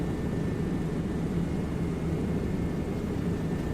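Steady, loud engine and rotor drone from a helicopter sitting on the ground in a flight simulator game, a continuous broadband roar with no talk over it.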